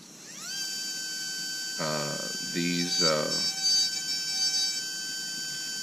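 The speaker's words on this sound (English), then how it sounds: "These particular ball burrs that I'm using right now are manufactured en masse by a number of different companies." A high-speed rotary tool fitted with a ball burr whines at a steady high pitch, spinning up and then holding as it details an edge, with brief deeper bursts while the burr bites into the work.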